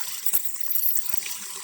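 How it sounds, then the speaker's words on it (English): Hot water runs from a tap while an electric water heater is being installed, a hissy splashing stream that spurts and gurgles unevenly at close range for under two seconds, with no voices. "turn on your hot water so that the hot water can come up through the lines"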